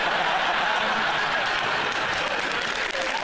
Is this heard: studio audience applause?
yes